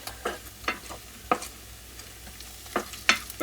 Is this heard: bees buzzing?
no